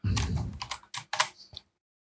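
Quick bursts of typing on a computer keyboard, several clustered keystrokes over about a second and a half, close and clear, then silence.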